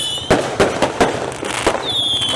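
Firecrackers go off at a night-time Raya celebration: a rapid run of five or six sharp, loud cracks roughly a third of a second apart, with a faint whistling rocket rising near the end.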